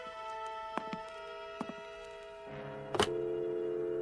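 A telephone is picked up and used: a few sharp clicks and button taps over a steady electronic hum, then a clunk of the handset and a continuous dial tone holding to the end, with no one speaking.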